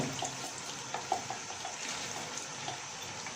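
About 1.5 litres of water poured into a pot of chana dal, a soft steady splashing and gurgle of liquid, close and fairly quiet, with a few brief clinks.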